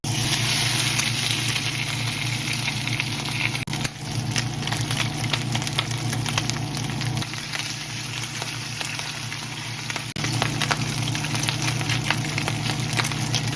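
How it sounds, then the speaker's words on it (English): A chuck roast sears in smoking-hot peanut oil in a cast iron pan, giving a steady broad sizzle that runs unbroken and close, with a faint low hum underneath and no voices. "you want to put the chuck roast in and let it sear for about 1 to 2 minutes on each side"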